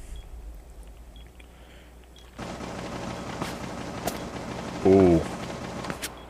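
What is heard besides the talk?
gunfire and bullets flying by in the video game Rainbow Six Siege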